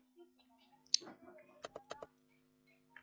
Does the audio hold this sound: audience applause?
no